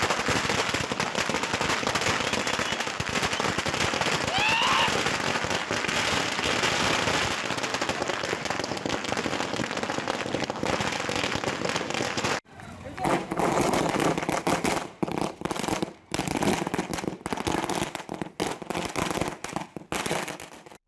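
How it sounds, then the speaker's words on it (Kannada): Political supporters in Bagepalli, Chikkaballapur district, set off firecrackers in street celebration, making a dense, loud crackling barrage that runs continuously, then breaks into sharper bursts separated by short gaps. "ಸುಬ್ಬಾರೆಡ್ಡಿ ಬೆಂಬಲಿಗರು ಪಟಾಕಿ ಹಚ್ಚಿ"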